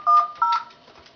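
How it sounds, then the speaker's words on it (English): Telephone keypad tones sound on a VoIP phone call, two short, loud, clear beeps in quick succession that then fade away, with no talking. "Dialing through to my phone."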